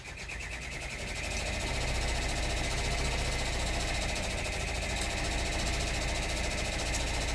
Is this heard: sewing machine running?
yes